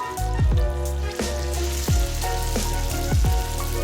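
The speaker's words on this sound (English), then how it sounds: "You should hear the sizzling sound." Chicken pieces sizzling and crackling loudly as they hit smoking hot mustard oil in a pan, with repeated sharp spits and pops over a constant frying hiss, close up.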